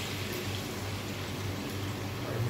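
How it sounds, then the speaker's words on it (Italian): A ladle of water is poured into a hot pan of pasta, pepper and guanciale, giving a steady, continuous rushing hiss that holds at an even level for the whole brief moment. "Prendiamo un mestolo d'acqua"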